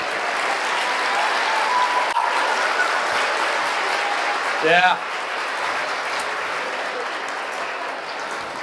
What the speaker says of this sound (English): All right, give it a round of applause.